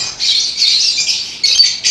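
A lovebird in an aviary gives shrill, harsh squawking calls in quick bursts, close and loud, with brief pauses between them.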